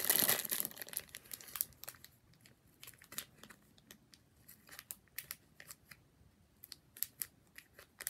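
Plastic wrapping of an LOL toy package crinkles and rustles in irregular bursts as it is opened up close, with sharp clicks scattered over several seconds.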